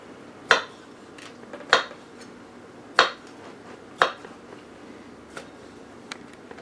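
A knife chops dill pickles on a cutting board in four crisp, evenly spaced knocks, then two lighter taps, each a sharp close thud with quiet pauses between.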